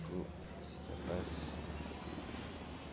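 A helicopter in the video game Ghost Recon Wildlands gives a steady, low, muffled engine drone that holds throughout at a faint level with no clear rotor beat.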